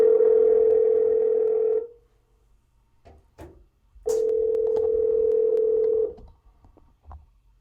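An outgoing test call rings through an Archeer waterproof Bluetooth speaker: two long, steady ringback tones about two seconds each, separated by a quiet gap with faint clicks and handling noise, loud and close.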